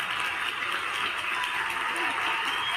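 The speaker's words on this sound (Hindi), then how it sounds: "ताली" Steady, dense applause from the audience at a Hindi kavi sammelan poetry gathering, a continuous wash of clapping filling the short moment without pause.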